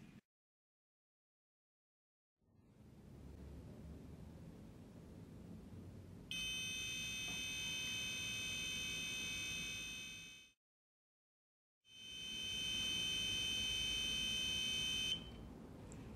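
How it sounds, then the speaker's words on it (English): A smart medicine box sounds its reminder alarm as two long bursts of shrill, steady electronic beeping separated by a short silence, loud against a low background hiss. "If we ignore the reminder, the notification will last for 1 minute."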